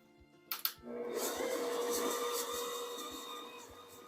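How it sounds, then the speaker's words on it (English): An electric mixer creams butter and sugar for peanut butter cookie dough, starting with a few bumps and clicks, then settling into a continuous whirring motor drone that fades slightly toward the end. "So cream the butter and the sugars together"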